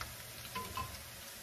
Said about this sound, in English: You can see the garlic start cooking now